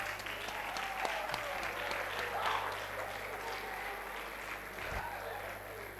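An audience applauds the parents of the valedictorian at a medical laboratory science induction ceremony, a sustained spread of clapping at moderate distance with faint voices mixed in.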